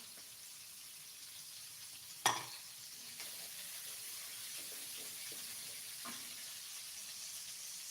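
Sambal fries in a pan with a steady, close sizzling hiss, broken by a sharp clatter of stirring about a quarter of the way in. No one speaks.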